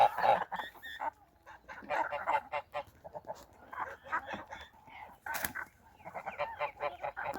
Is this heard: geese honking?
yes